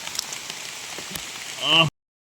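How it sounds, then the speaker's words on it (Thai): Heavy rain pours down outdoors while mushrooms are being foraged, a steady dense hiss of drops on surfaces that swells briefly louder before cutting off abruptly. "แล้วนี่จะเสียงฝนเนาะ สาดเลย"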